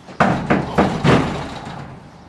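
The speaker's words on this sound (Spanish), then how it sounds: "Golpeando la puerta." Someone knocks on a door four times, firm hollow thuds spaced about a quarter second apart, heard close and alone before a short fading echo.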